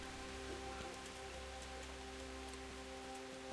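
Steady rain in the medieval game Kingdom Come: Deliverance, a continuous even hiss of falling drops held under a low tonal hum, with no speech over it.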